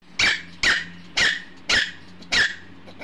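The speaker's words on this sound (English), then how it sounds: "D for dog." Dog barking, five loud close barks at an even rhythm with a faint growly rumble between them.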